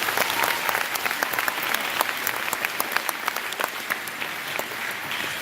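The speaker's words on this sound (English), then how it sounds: "Let's have a round of applause for it." A school assembly crowd at a Veterans Day event gives a sustained round of applause, dense clapping from many hands, steady and loud throughout.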